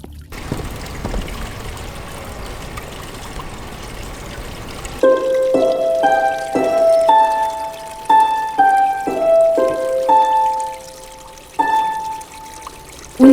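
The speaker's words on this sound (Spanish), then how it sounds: "Presentamos el arpa de agua." A water harp from Paraguay, played by the flow of powerful river water, rings out sustained resonant tones that overlap and shift pitch after a stretch of steady rushing water at the start.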